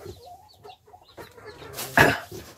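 Chickens cluck in a coop at a livestock holding yard, a scattering of short clucks and calls with one louder burst near the end, fairly close and with no talk over them.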